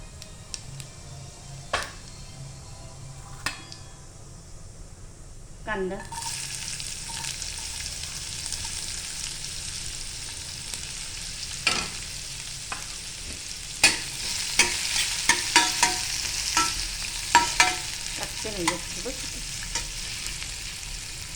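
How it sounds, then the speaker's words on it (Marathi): Mustard seeds and cumin crackle in hot oil for tempering in a kitchen pan, starting quiet and then a dense close sizzle with sharp irregular popping and spattering bursts. "इथे थोडी राई फोडणीला"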